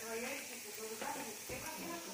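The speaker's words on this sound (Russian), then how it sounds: "Продолжаем они жарятся." Pirozhki stuffed with cabbage fry in a pan, giving a steady close sizzle and crackle that runs the whole time at moderate loudness.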